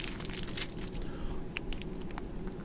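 Someone munching on a snack close to the microphone, with crisp crinkly crunches and rustles in quick irregular bursts over a steady low hum.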